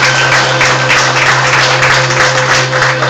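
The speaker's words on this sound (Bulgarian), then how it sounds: "Аплодисменти за тях" Guests at a wedding entrance applaud the fathers of the couple, a loud, continuous wash of clapping over a steady low hum from the venue's sound system.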